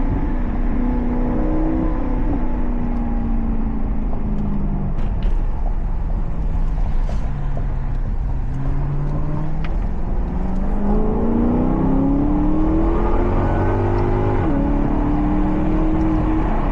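Maserati GranTurismo engine and exhaust while driving, a loud continuous drone rising and falling through shifts with gear changes and occasional crackling burbles, heard from inside the cabin.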